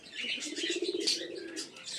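Pet pigeons kept at home, including Kaldoma fancy pigeons, coo and chirp softly up close in a continuous low murmur, with a few brighter tweets and a brief flutter of wings.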